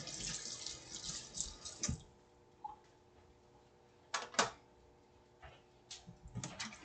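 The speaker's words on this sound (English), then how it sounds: "Wash the knife avec du savon une fois." A knife being washed with soap under a running kitchen tap after cutting meat: close, rushing water for about two seconds, then it cuts off, leaving quiet gaps broken by a few sharp clinks and taps.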